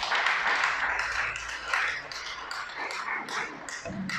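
Congregation at a Torah teaching breaking into scattered clapping, a moderate patter of hands with uneven rhythm and a few sharper taps, fairly close and without talk over it.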